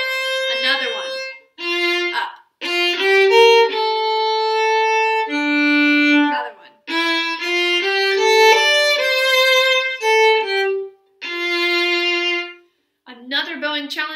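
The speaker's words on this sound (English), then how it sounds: "you're gonna see there's a down and then two ups. Sounds like this." Solo violin bows the Triumphal March audition excerpt up close, sustained clear bowed notes in a short-long phrasing of a down-bow followed by two linked up-bows, repeated phrases separated by brief pauses, with no talking.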